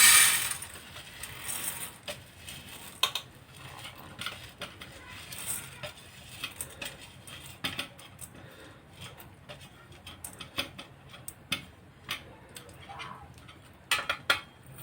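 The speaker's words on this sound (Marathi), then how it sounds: "आपण गॅसवरती कढईत आपण ठेवलेली आहे त्यामध्ये धणे घालूया" Coriander seeds dropped into a kadhai on a gas stove, giving scattered light ticks and rattles against the metal pan, soft and irregular over a quiet background.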